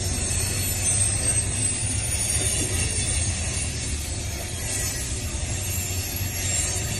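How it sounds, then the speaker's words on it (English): A CSX freight train rushes past at high speed through a small Kentucky town, a loud, steady roar of wheels and rail cars with hissing and faint squeal, sustained throughout with no voices. "I've never seen a train go that fast."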